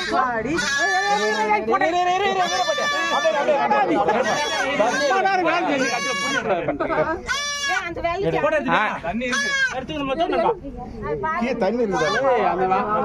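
A goat kid bleating during a firefighters' rescue from a borewell, with repeated wavering, high bleats rising over steady outdoor talk and crowd chatter throughout.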